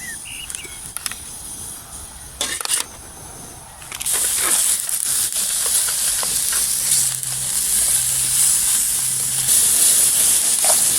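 Chicken hisses steadily in a hot pan at an outdoor wild camp, quiet clatter at first, then a louder sustained sizzle with scattered crackles and pops.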